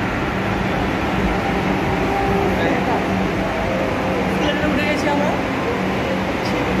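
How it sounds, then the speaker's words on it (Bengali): Ambience of a metro station, with the steady loud rumble of a train mixed with murmuring voices and station noise throughout. "এবার আমরা মেট্রো স্টেশনে উঠছি"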